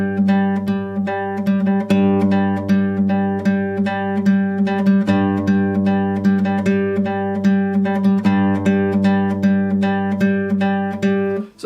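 Guitar intro line from The Mandalorian Season 2, played alone as a steady stream of plucked notes with a sustained low note underneath, brief phrase changes near two, five and eight seconds, even and close throughout.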